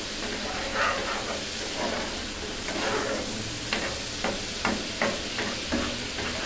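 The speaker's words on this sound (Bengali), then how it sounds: "এখন এটা মশলাটা আমি 2 মিনিটের মতন ভেজে নিব, মিডিয়াম আছে মশলাটা ভেজে নিব।" Spice paste for a pabda fish curry, already salted with chili and turmeric, fries over medium heat with a continuous hissing sizzle broken by periodic stirring scrapes and taps.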